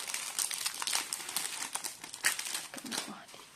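A plastic bag from a Temu diamond painting order crinkles and rustles while being unboxed, close and continuous with sharp crackling bursts, handled up near the listener.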